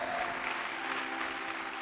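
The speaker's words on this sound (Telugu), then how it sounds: "చప్పట్లు కొట్టాలా." A church congregation applauds during a pastor's sermon, with dense, steady clapping throughout that sounds close and full, with no voices rising above it.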